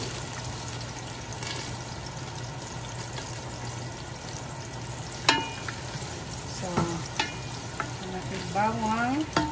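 Garlic frying in a pot as the base for beef pochero, a continuous sizzle with a few stirring clanks and scrapes, growing busier toward the end.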